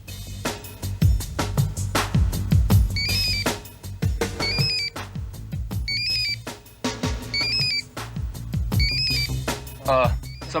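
A mobile phone rings repeatedly in a Hindi crime drama, a looping electronic ringtone under dramatic background music, with short bursts of rising tones recurring every second or so.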